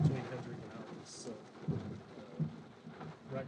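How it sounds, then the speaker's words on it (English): Heavy rain falls during a thunderstorm with hail and lightning over open country, a steady wash of rain broken by low rumbles of thunder and soft thumps, fairly distant and faint. "There's just a tremendous amount of rain and hail with prodigal lightning due west of me"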